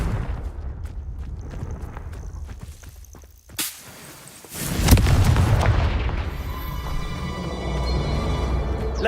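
Confringo blasting spell in Hogwarts Legacy, a sudden whip-like crack followed by a heavy booming explosion that rolls into a long, loud rumbling tail with ringing game sounds over it.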